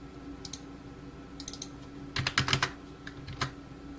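Keystrokes tap on a computer keyboard in short bursts, a few isolated clicks then a quicker cluster, entering a flow rate value, with no voices.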